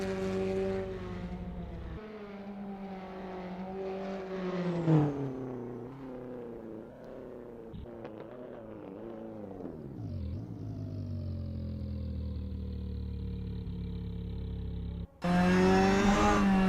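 Opel GT Gr4 race car from 2000 in Assetto Corsa, engine droning steadily at moderate revs on a gentle outlap at Milan Castello, with pitch dips and rises as it shifts and eases through corners, ending in a louder burst.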